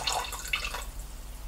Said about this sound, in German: Eine Dose nehme ich und fülle mit etwas Wasser auf und gebe davon ca. 100 bis 150 Gramm in den Mixtopf.